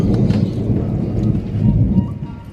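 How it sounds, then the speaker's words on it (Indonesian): Heavy tropical downpour during the rainy season with a long, deep rolling rumble of thunder, loud and continuous, with no voices. "Ya ampun petirnya geng."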